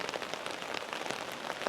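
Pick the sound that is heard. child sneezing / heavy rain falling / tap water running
heavy rain falling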